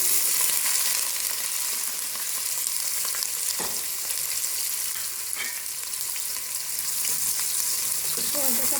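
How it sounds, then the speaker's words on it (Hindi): Onions frying in hot oil in a deep pot, a steady, loud, dense sizzle close by with faint occasional stirring clinks and no voices. "सबसे पहले देचकी में मैंने पौना कप ऑयल लिया है, गर्म हो गया। अब इसमें हम प्याज शामिल करेंगे।"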